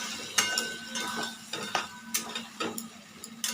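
Chicken is stirred in a pan with a utensil over a low gas flame, giving a run of close, sharp clinks and scrapes in an irregular rhythm over a steady low hum, with no voices.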